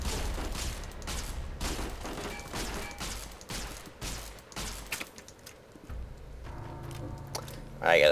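Minigun fire in heavily modded Fallout: New Vegas Lonesome Road, heard as bursts of dense rapid shots that pause and resume, with a voice talking alongside.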